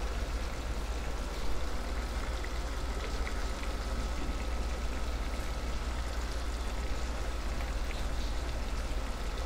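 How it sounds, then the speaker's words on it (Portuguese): Steady rain falling outdoors, a dense continuous patter and hiss that stays even and fairly loud throughout, with no voices. "Olha o barulhinho da chuva."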